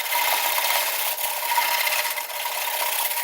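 A bowl gouge shaves the rim of an ash bowl spinning on a wood lathe, giving a loud, continuous hissing scrape with a steady rasp and no pauses, heard up close.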